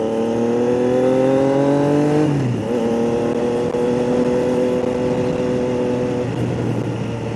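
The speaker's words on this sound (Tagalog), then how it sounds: "Ganda din ang design ng motor na to. Suzuki. Dalawa yung exhaust niya." A Suzuki motorcycle with twin exhausts idles and revs nearby at a town fiesta in Bohol, its steady engine drone dipping in pitch midway then holding a loud, constant hum.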